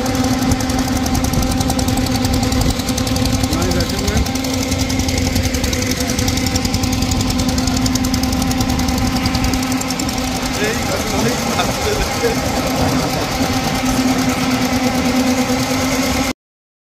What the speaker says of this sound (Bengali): ওই একটা বোট আসছে এই করে